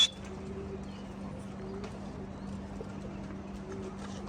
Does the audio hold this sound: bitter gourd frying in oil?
no